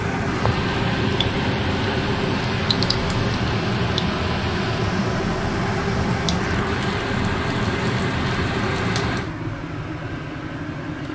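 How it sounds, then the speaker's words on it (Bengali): Chhana kofta balls fry in hot mustard oil, a dense, loud, steady sizzle and crackle that carries on for about nine seconds before easing slightly, with no voices. "সর্ষের তেলে রান্নাটা আগে ভেজে নিচ্ছি"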